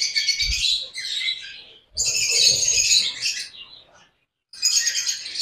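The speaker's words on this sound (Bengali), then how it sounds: "পাখিগুলো সব এক পাশে ভয়ে চলে গেছে" Shrill squawks and chirps from several frightened lovebirds in a breeding setup come in agitated bursts close by, broken by brief silent pauses.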